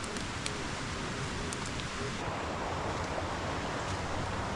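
A forest valley waterfall gives a steady, full rush of falling water that holds broadband and unbroken throughout, fairly close and constant, with no voices.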